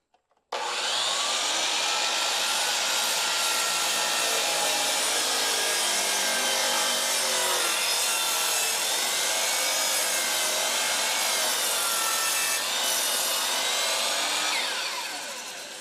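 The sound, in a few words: DeWalt miter saw cutting a 5x5 timber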